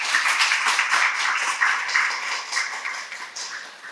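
A crowd at a literary festival author event applauds steadily, many hands clapping together in a dense, sustained patter that fades slightly toward the end.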